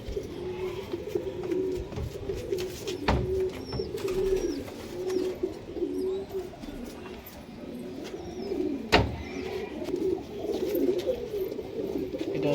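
Golden Pakistani high flyer pigeons coo in repeated soft, throaty bursts close by, with a couple of sharp knocks and faint background noise.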